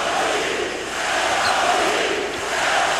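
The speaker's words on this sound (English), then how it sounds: "The crowd is trying their darndest." Arena crowd at a 2004 NBA playoff game between the Pacers and the Heat, a loud continuous roar of cheering and shouting that swells and dips without pause.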